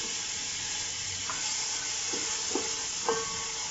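Tomato and green chilli paste frying in a pan with browned garlic, a steady close hiss of sizzling oil broken by a few soft bubbling pops.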